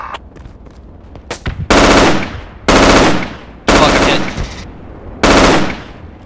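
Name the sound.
machine gun fire in the video game Project Reality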